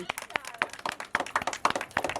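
Children clapping their hands during a playful acting and dance game, a quick run of sharp, uneven claps close by, mixed with lively voices.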